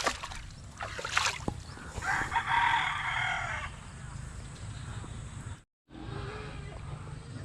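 A rooster crows once, fairly close, over a steady low rumble of outdoor background noise, with a brief dropout near the end.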